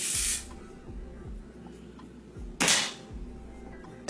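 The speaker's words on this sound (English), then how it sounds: "I'm just gonna go ahead and spray" Two short sprays from a spray bottle, one at the start and another a couple of seconds later, with quiet low background noise between.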